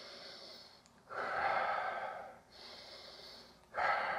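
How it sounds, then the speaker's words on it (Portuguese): Deep meditation breathing, slow audible inhales and exhales alternating with no pause, two stronger rushing breaths separated by a softer airy one, close and quiet. "Então 4 respirações, inspirando e expirando sem pausa."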